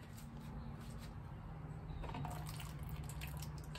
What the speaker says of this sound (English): It's a little bit of water.